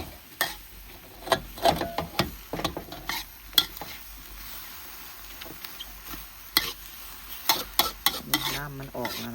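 Hot oil crackles and sizzles in a pan while stewed pork skin cooks for Isan-style larb, with a steady frying hiss broken by clinking stirring and scraping clatters throughout.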